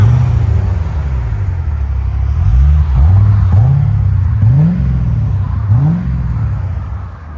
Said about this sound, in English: Deep, clean tone. Borla ProXS always sounds good on anything.